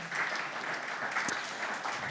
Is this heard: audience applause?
yes